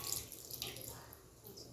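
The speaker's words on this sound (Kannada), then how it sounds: "ಅದಕ್ಕೆ ಸ್ವಲ್ಪ ನೀರು ಹಾಕಿ" Water poured into a pan of beetroot for a home-cooked beetroot stir-fry, a short, soft splashing trickle heard close up and alone.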